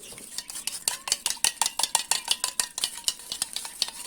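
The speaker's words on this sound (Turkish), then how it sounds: "diş macunumuzu aldım. Suyumuzu ilave ediyorum. Ve güzelce karıştıralım. Çözülmesini sağlayalım." A spoon stirs toothpaste with water in a bowl while making slime, producing quick rhythmic clinks and scrapes against the container, steady and close throughout.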